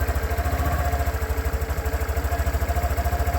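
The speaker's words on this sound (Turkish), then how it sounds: "Şöyle bir size egzozu dinleteyim." A Falcon T-Rex 188 motorcycle idles steadily up close, its exhaust putting out a deep, even low-pitched thump with a faint mechanical clatter.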